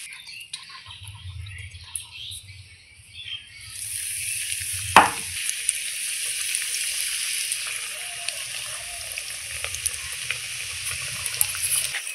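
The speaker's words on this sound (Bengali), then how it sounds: "দেখুন এক এক করে আমি সব এই কাটলেটগুলো এইভাবেই ভেজে নেব।" Fish egg cutlets sizzle steadily in hot oil, a loud continuous frying hiss that swells after a few seconds and holds, with a brief sharp clatter partway through.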